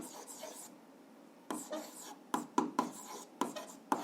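An algebra equation is written out by hand, heard as quiet, intermittent scratching strokes and small taps that come in short bursts with pauses between them.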